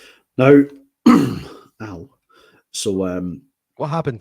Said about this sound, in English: I coughed and bit my tongue, okay?